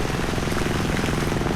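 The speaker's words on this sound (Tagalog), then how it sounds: "malakas na yung ulan" Heavy rain pours onto a plowed farm field as a dense, steady hiss and patter, loud and close with no breaks through its short length.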